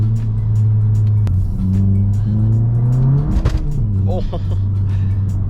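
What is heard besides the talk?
straight-piped Volkswagen GTI exhaust under load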